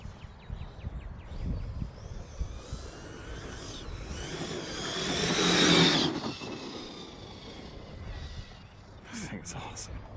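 Kraton RC car with an upgraded motor and speed controller racing around an empty spot, its high electric whine surging and swelling to a peak mid-run before fading, with voices and outdoor noise around it.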